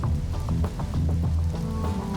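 Rain in the video game Nighthawks patters steadily on surfaces, a constant wash of drops mixed with low, droning background tones.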